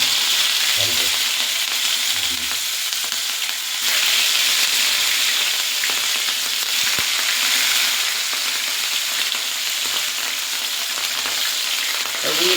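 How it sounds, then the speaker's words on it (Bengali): Pieces of rohu fish frying in hot oil, a loud, steady, hissing sizzle that runs continuously throughout with occasional crackles and spatters. "তেল গরমই হয়ে গেছে মোটামুটি এবার মাছগুলোকে একটা একটা করে ছাড়বো"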